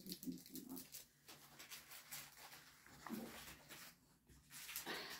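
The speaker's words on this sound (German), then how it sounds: "Das ist übrigens mein Painting-Hund." A small dog moves about and whimpers softly in a quiet indoor room, with faint high whines and light shuffling scattered through the moment; no one speaks.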